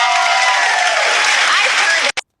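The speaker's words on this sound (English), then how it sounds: "Crowd just cheering this on." Audience at a drag show cheers and applauds loudly for a young child drag performer, a dense steady roar of clapping and shouts that cuts off abruptly near the end with one brief final burst.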